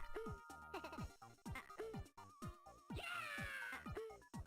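Cartoonish cat meows from the video game WarioWare D.I.Y., a string of short, bright mewing calls in quick rhythm over busy game music and effects, fairly quiet overall.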